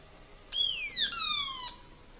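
An automaton musical instrument plays a bright, whistle-like tone that leaps up and then slides downward in two quick gliding phrases, clear and alone against faint background hiss.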